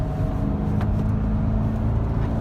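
A 2017 Chevrolet Corvette downshifting into second gear with active rev match, a close, steady engine drone heard in short bursts, with no talking over it.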